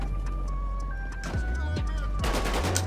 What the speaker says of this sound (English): I thought somebody was shooting out here.